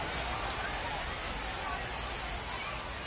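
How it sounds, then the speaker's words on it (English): Rain falling on a baseball field in the MLB 26 video game, a dense, even hiss of downpour that holds steady and fairly loud throughout. "the field's not going to be able to hold up if the rain gets any worse than this"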